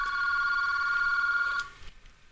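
A telephone rings on a call placed from one extension to another, a steady, loud electronic tone that holds for about a second and a half and then cuts off, leaving faint room noise.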